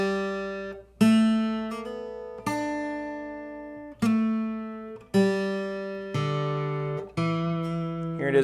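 An acoustic guitar plays a run of blues licks very slowly, one plucked note or short slide at a time. Each note rings clearly and decays before the next, and nothing else is heard.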